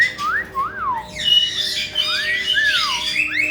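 A happy pet bird squawks and whistles in loud, rising and falling calls, close by, repeated several times over a low steady hum.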